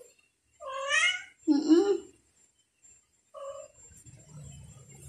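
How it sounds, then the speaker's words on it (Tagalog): Two drawn-out cat meows sound close by, followed by a shorter mew and a soft low rumble like purring or movement. "At yan yung mga pusa."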